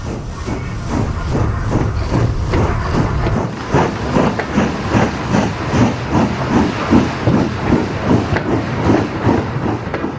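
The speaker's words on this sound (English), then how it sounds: "Primrose pushes another train of tippler wagons to the tip." Steam locomotive Primrose pushing a train of tippler wagons toward the tip at a Yorkshire industrial site, with loud rhythmic chuffing exhaust beats over a steady hiss and rolling wagon noise, close and continuous throughout.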